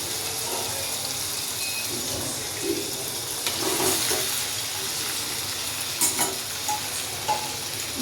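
Potato pieces stirred into soft cooked tomatoes in a pan, a steady low sizzle with spoon scrapes and a few clinks against the metal, close up and without speech.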